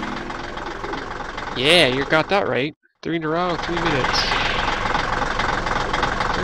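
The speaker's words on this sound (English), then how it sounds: "Wow, that tractor is super noisy." Noisy tractor engine idling in the Linden Shades game, a steady loud mechanical drone throughout, with someone talking over it and a brief dropout midway.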